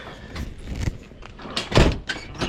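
Door being opened or closed, several rattling knocks and a louder thump near the middle, close and fairly loud, with no talking.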